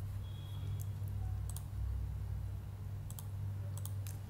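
Keyboard keys clicking on a computer as Ctrl+V is pressed to paste a name, several sharp taps in small clusters over a steady low hum.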